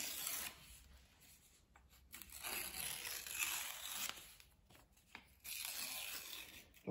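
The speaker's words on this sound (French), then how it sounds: "on déchire les bouts." Paper is torn by hand in several slow, rasping strips separated by brief pauses, close and fairly quiet, with no voices.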